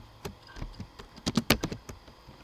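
Computer keyboard keys clatter in irregular bursts while code is typed, with a dense flurry of close, crisp clicks around the middle.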